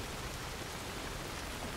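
Steady rain falls in the video game Soulmask, a dense, even hiss of drops with no breaks and no voices, fairly quiet throughout the short stretch.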